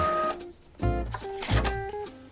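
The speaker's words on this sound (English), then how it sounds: "he obviously hadn't taken his printer into account." A printer runs close by, whirring and clunking in uneven bursts with tonal motor whines that rise and shift, and brief pauses between mechanical pulses.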